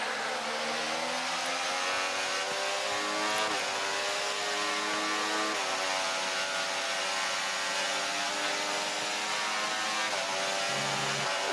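The F1 24 video game's race car engine holds a steady high-pitched drone as it enters the pit lane in the Spain Grand Prix, with slight pitch dips and a brief shift near the end, loud and continuous.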